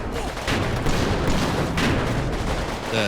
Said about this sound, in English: The bigger explosions there are the Panzerfausts.